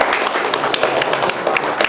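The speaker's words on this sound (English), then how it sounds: "If we can give a round of applause to all of our panelists here." Audience applause for a panel at an anti-imperialism forum, steady dense clapping filling the room at close range, without pause across the short stretch.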